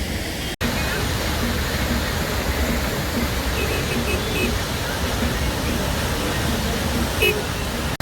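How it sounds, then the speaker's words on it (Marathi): The Bhagirathi river rushes past on the road to Gangotri in the Himalayas, a loud, steady roar of churning water filling the whole clip without a break. "आणि ही भागीरथी नदी वाहतीये इथून."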